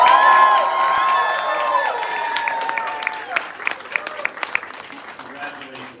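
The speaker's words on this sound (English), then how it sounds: "so let's give another special round of applause" Awards ceremony audience breaks into applause and cheering amid loud crowd voices, the clapping growing more distinct and scattered toward the end.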